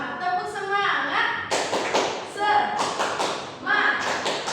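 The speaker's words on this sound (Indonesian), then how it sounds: "Oke, yuk kita tepuk semangat." Children clap a rhythmic cheer in a small classroom group, a few bursts of sharp claps with a teacher's voice and chanting mixed in, close and moderately loud.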